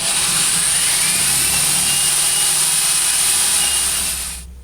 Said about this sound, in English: Now I'll go ahead and cut the hearts out.